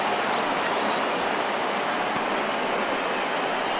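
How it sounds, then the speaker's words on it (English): Rain coming down during a professional baseball game, a dense, even hiss of falling rain at steady volume throughout, with no voices over it. "we've mentioned the conditions aren't ideal with the rain coming down"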